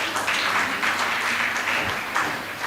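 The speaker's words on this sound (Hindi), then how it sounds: "तालियां बजनी चाहिए।" A school audience at a naat competition and prize-giving applauds a student, a steady, dense roar of many people clapping that holds evenly from start to finish.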